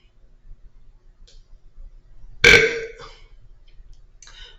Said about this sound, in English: I ate chili and I had a chili burp.